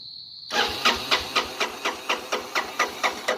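A 1985 Honda Big Red 250ES ATV on a cold, hard start briefly fires after a thin whine cuts out, chugging in about a dozen evenly spaced, close pulses.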